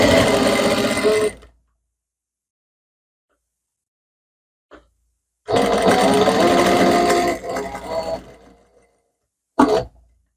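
A sewing machine stitches a blouse close to its canvas lining, running in two loud bursts of steady mechanical whirring separated by silence, with a couple of short clicks between and a brief final burst.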